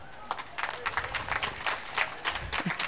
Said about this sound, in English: So let us clap for ourselves louder than this.